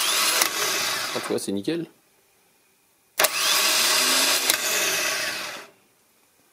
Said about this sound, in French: on va vérifier la solénoïde qu'elle fonctionne bien, que ça me fasse bien sortir mon pignon